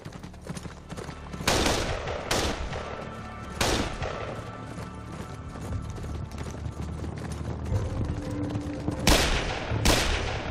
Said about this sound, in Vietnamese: tiếng súng.